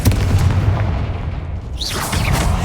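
Confringo blast spell in the video game Hogwarts Legacy: a loud rumbling explosion with deep booming low end, followed by a fizzing, whooshing magical burst near the end.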